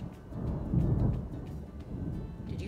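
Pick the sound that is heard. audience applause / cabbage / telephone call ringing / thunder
thunder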